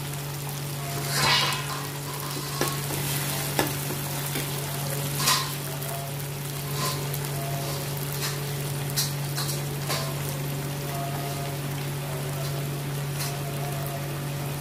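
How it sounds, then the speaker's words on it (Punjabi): Onions fry in a pan with a continuous close sizzle and crackle, broken now and then by sharper clicks of stirring, steady in loudness throughout, with no talk. "ਲੋ ਜੀ ਪਿਆਜ਼ ਸਾਡਾ ਭੁੱਜ ਗਿਆ"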